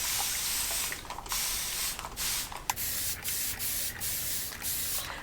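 A spray bottle mists an 18-by-21-inch piece of quilting fabric laid flat on an ironing board, giving a quick series of short, crisp spritzes at a steady rhythm, close and fairly loud, with no talking.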